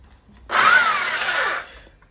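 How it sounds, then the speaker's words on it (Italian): A power drill bores through material in a single close, loud burst of whining grinding that lasts about a second before cutting off, with no talk. "momento della trapanatura"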